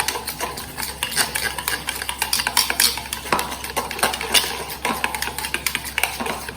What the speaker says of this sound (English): Then stir it nicely, mix it. There shouldn't be any lumps anywhere.